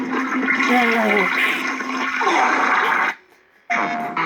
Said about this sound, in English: I flushed him down the toilet, of course.